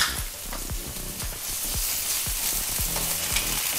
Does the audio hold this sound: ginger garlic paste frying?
yes